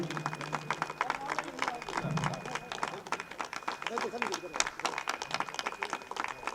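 Steady applause from a crowd of children and guests welcoming visitors at a cricket stadium inauguration ceremony in Lucknow, continuing throughout under a voice speaking over a public address system.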